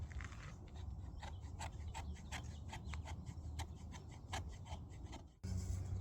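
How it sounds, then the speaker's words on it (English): Shavings scraped off a piece of resinous pine fatwood with a blade, a quiet series of rhythmic rasping strokes, roughly a dozen in a row, ending with a brief bump. "I'm going to scrape some shavings off this fat wood, which is resin from the bottom of a pine tree"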